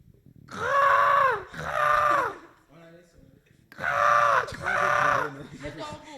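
A person imitates a crow during a mime game, giving two pairs of drawn-out, nasal caws close to the mic, with a short low murmur between the pairs.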